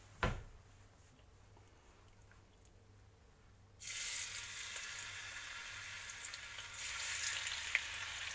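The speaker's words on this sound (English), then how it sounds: "I've just added in a bit of oil to a wok, and we're going to start frying off our chicken." A short knock, then a few quiet seconds before a steady sizzle of chicken frying in hot oil in a wok starts and grows a little louder.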